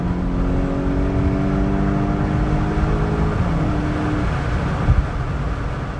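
A VW Golf 8 GTI accelerating hard during a rolling race, its engine note climbing steadily through the gears with a strong, close droning whine heard from inside the car.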